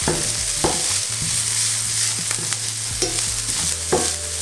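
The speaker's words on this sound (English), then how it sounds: "And I'm just gonna shortly mix in the spices." A spoon stirs spices and sugar into simmering tomato sauce for meatball subs, with steady close scraping strokes over a soft continuous sizzle, a few sharper clinks of the utensil against the pan, and no talking.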